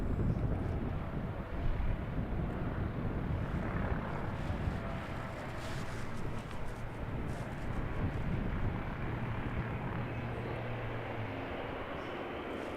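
An aircraft at Christchurch Airport, New Zealand rumbles steadily and loudly, a broad continuous roar with wind buffeting the microphone throughout.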